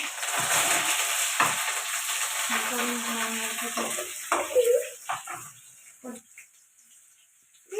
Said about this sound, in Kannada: ಈರುಳ್ಳಿ ಮತ್ತು ಕರಿಬೇವು ಒಟ್ಟಿಗೆ ಹಾಕ್ಕೊಳ್ತೀನಿ